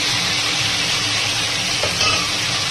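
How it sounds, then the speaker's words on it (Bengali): Catla fish heads fry in hot oil with a loud, continuous sizzle that holds steady and close throughout. "এবার এই যে মাছের মাথাগুলো ভালো করে তো ভেজে নেই"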